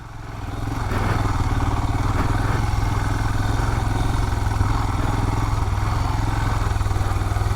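Royal Enfield Himalayan motorcycle riding on a dirt off-road trail, its single-cylinder engine thumping steadily and loudly throughout with a rapid pulsing rhythm and some rattling clatter, no talking.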